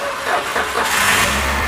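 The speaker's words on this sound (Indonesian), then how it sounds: "sekarang coba di starter" A Toyota Avanza's starter cranks the engine after a relay replacement, giving a loud, close mechanical churn that rises into an engine turning over, with no one talking.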